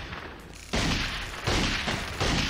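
Gunfire in The Godfather II video game: three loud, close bursts of shots in a rapid, uneven sequence over steady game background noise.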